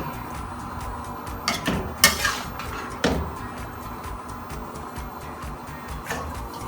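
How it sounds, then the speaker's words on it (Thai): Vegetables for a Thai mixed-vegetable soup (tom jap chai) are scooped into a soup pot. A few sharp utensil knocks and clatters against the metal ring out over a quiet kitchen background. "แล้วเราก็ ตักผักใส่หม้อได้เลย"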